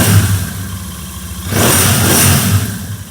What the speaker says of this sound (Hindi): ऑलमोस्ट दोनों बाइकों की एक जैसी साउंड है यार,